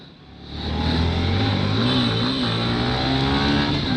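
A motorcycle fitted with new tyres revs hard during a burnout, its engine roar swelling quickly and then holding loud and close with wavering pitch, with no talk.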